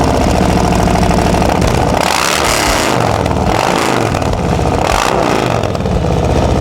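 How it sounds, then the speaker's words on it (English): A 2020 Harley-Davidson Road Glide Special with a Milwaukee-Eight 114 V-twin and aftermarket Zombie exhaust idles loudly and close up, a deep, lumpy, uneven rumble with a few throttle swells, no talking over it. "zombie exhaust, sounds amazing."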